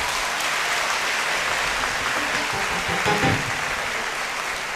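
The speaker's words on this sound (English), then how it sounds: "Another round of applause." Sustained applause from an audience at a University of Ghana event honoring a lecturer's presentation, a dense, even wash of clapping filling the room for several seconds without speech.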